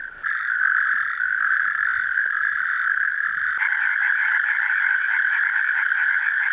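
A natterjack toad gives a loud, continuous rolling trill close by; a second trilling call joins partway through, thickening the chorus.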